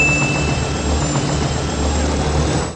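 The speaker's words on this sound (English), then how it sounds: "Will Smith decides that he wants to steal a helicopter to look for his fiancée" Military helicopter engine from the Independence Day film scene, a steady loud broadband roar with low rotor hum and a high whine held throughout before cutting off abruptly at the end.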